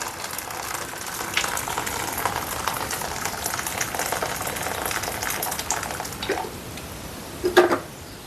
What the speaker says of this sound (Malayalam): നമുക്ക് ഉപ്പിട്ടിട്ട് നല്ല തിളച്ച വെള്ളം ഒഴിച്ചു കൊടുക്കാം